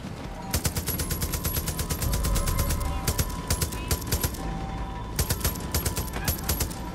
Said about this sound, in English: Took like 90 shots.